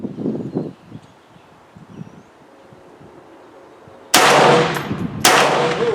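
A Palmetto State Armory PSA AKV rifle fires 115 grain Federal ammunition at a 25-yard range: two sharp, loud shots about a second apart, with ringing tails, breaking a quiet stretch of soft rustling.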